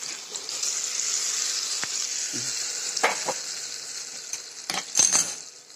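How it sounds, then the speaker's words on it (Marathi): Hot oil tempering for a chutney sizzles steadily, a bright hissing crackle with a few sharp pops and clinks near the end. "आता काही फोडणीचा तडका ह्याच्यामध्ये देते"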